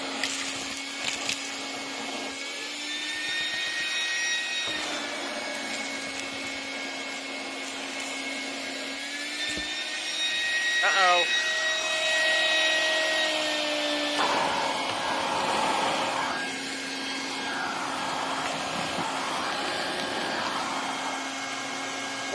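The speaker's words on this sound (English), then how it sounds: "This is one capable little shop vac." Stinger 2.5 gallon wet/dry shop vac running steadily with a whining motor hum that shifts pitch as the suction load changes, close and continuous throughout.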